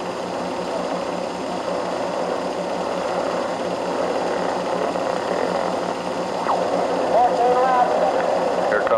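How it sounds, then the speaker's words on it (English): Class 5 racing motorcycles idle together on the start line before the final race, a steady buzzing drone of several engines with a rising rev near the end. "They're lining up for the last race of the day, the final race for Class 5 motorcycles."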